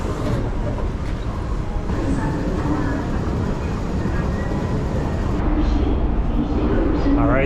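Interior of a Hong Kong train in motion: a steady, loud rumble and rolling wheel noise fills the carriage throughout, with a shift in the hum near the end and faint voices mixed in.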